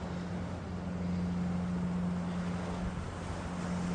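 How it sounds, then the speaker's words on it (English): A loud motorboat engine drones steadily nearby off the coast at Old Harry Rocks, a constant low hum mixed with wind buffeting and splashing water. "We have a very loud boat."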